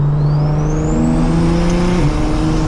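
A BMW 335i pulls hard in sport mode, its engine note climbing steadily with a rising turbo whine, then dropping sharply at a quick upshift before pulling again, loud and close with no talking.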